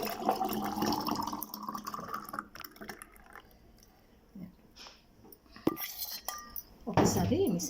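A spoon stirs and clinks against a dish while mixing a thick makhana juice made with blended makhana and thick milk, with soft scraping and a few sharper clinks near the end, close and moderately loud.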